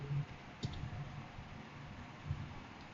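A computer mouse clicks a few times, quick and dry, close but faint against a quiet hiss, with no talking.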